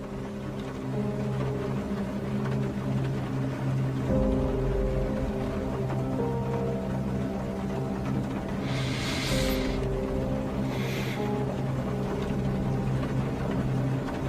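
A car engine in the video game Silent Hill 2 Remake turns over early on and settles into a low, continuous idle hum, with a couple of soft hissing swells partway through.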